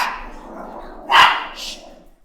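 A dog gives a single short bark in the middle, faint and somewhat distant, under and between someone speaking French.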